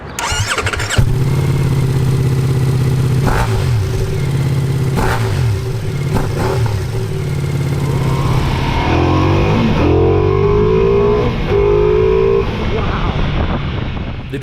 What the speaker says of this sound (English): Ducati Multistrada is an absolute powerhouse, surprisingly quick and nimble for its size.